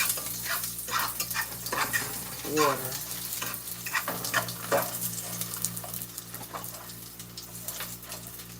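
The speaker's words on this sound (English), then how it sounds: "after I start stir frying it" Food sizzles and crackles in a hot pan with scraping stirs and utensil clinks, a voice speaking briefly over the cooking.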